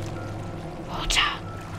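A broken toilet in the video game Crysis 2 bursts with water, a brief gushing splash rising over a steady low game-ambience hum.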